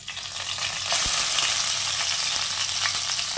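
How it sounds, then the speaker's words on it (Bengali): Onion, garlic and ginger paste frying in oil and ghee, a loud, dense sizzle that swells after a sharp clink of the spoon and keeps crackling steadily up close. "এবারে তেল আর ঘিটার ভিতরে দিয়ে দিচ্ছি পেঁয়াজ, রসুন, আদা একসঙ্গে বাটা"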